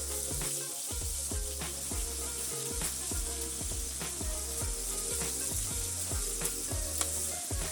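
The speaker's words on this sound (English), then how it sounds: "we're just making sure we get all these edges nicely seared and get the fat cap rendered" New York strip steak searing in a hot pan, edges and fat cap rendering, with a steady dense sizzle throughout and repeated low thumps and knocks of the meat being moved, close and loud with no talking.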